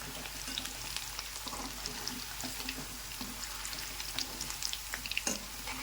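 Potatoes for dum aloo fry in a little oil in a pan over a high gas flame, making a quiet, steady sizzling hiss with scattered small crackles and pops.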